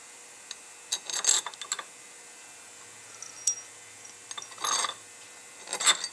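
Small screws dropped through the holes of an AC 9804 military fuel pump, making scattered light metallic clicks and brief scraping rattles, close up, with quiet gaps between them.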